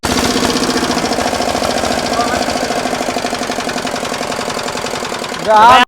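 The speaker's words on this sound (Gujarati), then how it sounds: "નેનો પાવર ટીલર ચાલુ થઈ ગયું છે" A small diesel power tiller engine chugs steadily with a rapid knocking rhythm, close and loud, ending in a brief louder burst.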